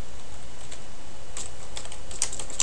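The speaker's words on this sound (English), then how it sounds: "We might type something here like" A computer keyboard being typed on, with scattered light clicks over a steady hiss and a few sharper keystrokes near the end, close and fairly soft, with no voices.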